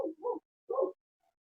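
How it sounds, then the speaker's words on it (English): A dog barks in the background, three short yapping barks in quick succession, two close together and a third after a brief pause, fairly faint and alone without talk. "There's this dog in the background that keeps barking."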